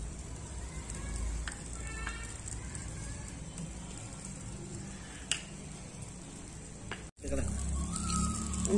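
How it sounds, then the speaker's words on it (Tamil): Dried thorny twigs burn in a cooking stove with a continuous close crackle and sizzle, scattered sharp pops standing out, then a brief cut before the crackling resumes. "முள்ளு வேறு நல்லா காஞ்சிக்கனால கலகலன்னு எரியுது."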